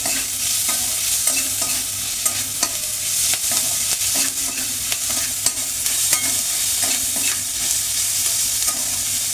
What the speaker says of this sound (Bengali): আমি একটু পেঁয়াজ আর আদাটা একটু ভাজা মতো হলে আমি তারপরে অন্যান্য মশলা দিতে শুরু করব